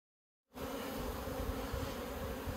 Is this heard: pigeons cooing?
no